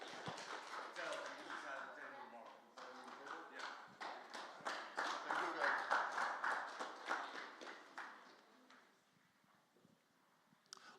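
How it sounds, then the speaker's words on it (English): Audience clapping for arm-wrestling competitors at a Challenger Series press conference, a dense patter of hands building over several seconds with scattered cheers and voices mixed in, then thinning out near the end. "Big hand of applause."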